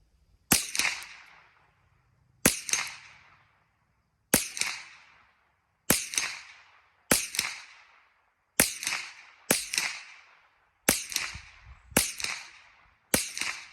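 Suppressed Legacy Citadel TRAKR 22 semi-auto rifle firing ten sharp, muffled cracks at uneven intervals of about one to two seconds. Each shot is close and stands alone, with a short decaying tail.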